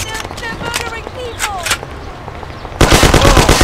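Gunfire in the Mafia video game, sharp bursts of shots during a street shooting, ending in a loud dense volley, with shouted voices and cries mixed in.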